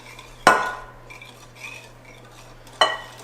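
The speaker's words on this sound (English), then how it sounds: "While whisking." Confetti muffin batter whisked in a bowl in a home kitchen: two sharp clinks of the whisk against the bowl, with faint stirring between them, close and alone.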